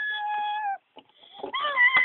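A cat lets out a long, drawn-out meow up close, then after a short pause a second rising meow follows.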